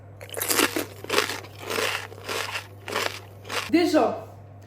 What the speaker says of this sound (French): On sent que c'est crunchy, que vraiment ça croque.